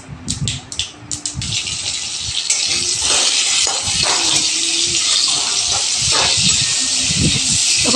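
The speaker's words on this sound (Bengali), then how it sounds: "কড়াইতে দেখো সর্ষে দিয়ে দিয়েছি" Mustard seeds hit hot oil in a wok, a few sharp pops at the start giving way to a dense, steady sizzling hiss close by, with a couple of faint clinks.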